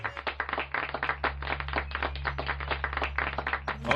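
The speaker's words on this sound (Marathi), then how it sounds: "टाळ्या." A small group of people claps in uneven bursts, close and fairly quiet over a low steady hum, with no talking.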